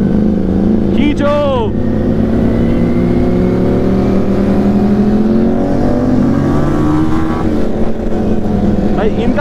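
A Yamaha R1 motorcycle engine revs and pulls loudly up close, the pitch climbing and falling across the clip while a voice talks over it.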